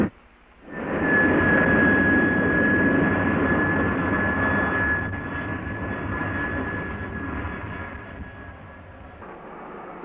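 A T-33 Shooting Star jet airplane takes off, its engine quickly building to a loud, steady roar with a thin high whine on top, then slowly fading into the distance.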